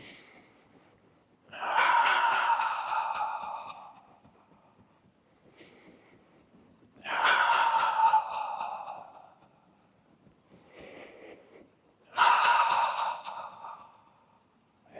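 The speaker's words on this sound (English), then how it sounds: "a breath in through the nose, a breath out through the mouth" Three slow, audible breath cycles, each an inhale through the nose followed by an exhale through the mouth with a soft voiced 'ha' sound, spaced evenly with quiet pauses between, close and alone.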